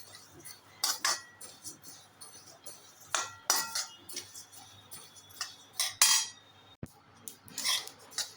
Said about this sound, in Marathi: आता धना डाळ भाजायची आहे